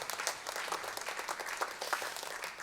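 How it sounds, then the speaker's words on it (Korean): Church congregation clapping together during a Sunday service, a steady burst of many hands at an even, rhythmic pace lasting a couple of seconds. "박수로 하나님께 화답하겠습니다"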